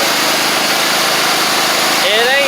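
A Gravely 260Z zero-turn mower engine, repaired after only running in the start position, runs steadily up close with a broad even drone, a rising whine appearing near the end.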